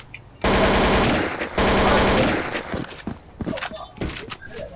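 Automatic gunfire in Counter-Strike 2 comes as two long, loud, rapid bursts, followed by scattered single shots and thuds as the exchange dies down.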